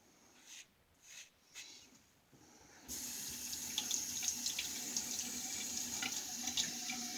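A bathroom tap turned on during a wet shave, a few quiet soft handling sounds first, then a steady, close rush of running water filling the sink.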